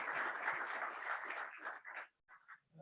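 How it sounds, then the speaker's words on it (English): Audience applause at a financial stability and monetary policy conference, steady clapping from the room that tapers off into scattered claps and a faint voice at the end. "big round of applause for Fabio."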